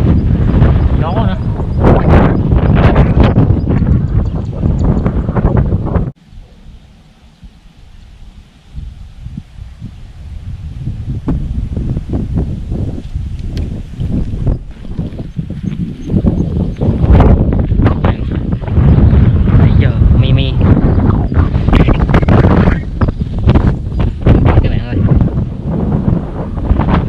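Strong wind blows outdoors on a fishing outing as clouds gather before rain, loud gusts buffeting the microphone almost throughout, with a brief quieter lull partway through.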